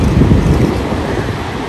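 Wind and Pacific surf at Ocean Shores beach in Washington, a steady, loud broadband roar with buffeting wind noise on the microphone and no voices.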